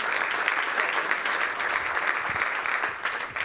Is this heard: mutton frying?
no